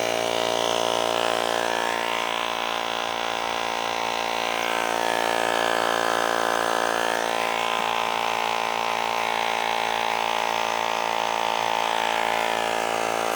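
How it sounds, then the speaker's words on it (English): An AirMoto smart pump set to bike mode inflates a bicycle tire, giving a continuous loud mechanical whir and buzz close by that holds steady for the whole stretch without pause. "take it over here to the bicycle and fill up the bike tire"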